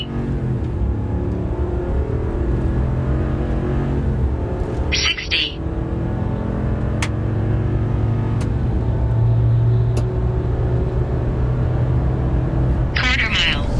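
A 2023 Ram 2500 Power Wagon pickup with a Hemi engine, 429 lb-ft of torque, an 8-speed transmission and a 4.10 rear end accelerates from 0 to 60; a steady, rising engine drone runs throughout beneath ongoing talk.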